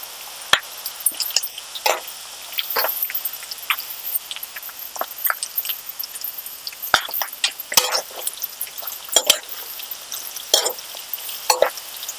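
Onions frying in hot oil for a Telugu kandagadda (yam) fry, a quiet steady sizzle broken by frequent sharp crackles and pops, with occasional spoon stirring, no talking.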